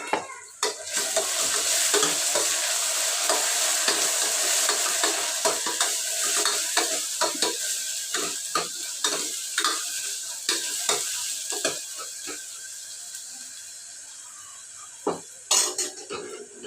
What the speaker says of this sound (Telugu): అల్లం వెల్లుల్లి పేస్ట్ వేసుకుంటున్నా